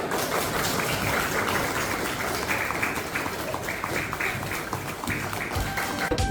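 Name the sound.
class of children applauding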